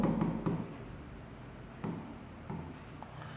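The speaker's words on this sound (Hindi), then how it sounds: "ये डेट लिख दो, ये पार्टिकुलर लिख दो," A pen writes on paper in a ledger during an accounts lesson, with short scratchy strokes and taps repeated through the clip, close and fairly quiet.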